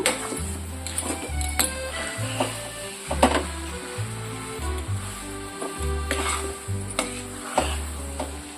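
Coconut laddu mixture with ghee and cardamom stirred in a pan, a close, steady scraping and rubbing in repeated strokes over a faint sizzle, with occasional clinks of the spoon against the metal.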